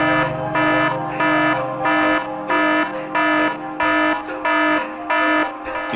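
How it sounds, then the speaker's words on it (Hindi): An electronic alarm rings in steady repeating bursts, about ten pulses of a harsh buzzing tone with brief gaps between them, loud and close. "ये अलार्म क्यों बज रहा है?"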